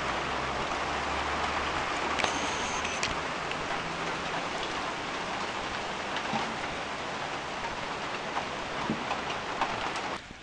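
Heavy rain pours steadily on a riprap work site, a dense continuous hiss with occasional drip ticks, holding loud throughout with no talk.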